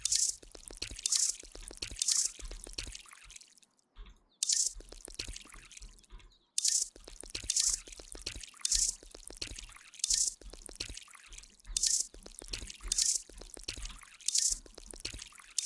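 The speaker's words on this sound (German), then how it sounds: "So, jetzt gießen wir mal alles." Cannabis plants in a drug-dealing simulator game are watered in repeated short bursts of splashing, dripping liquid, each pour lasting about a second with brief gaps between, close and moderately loud.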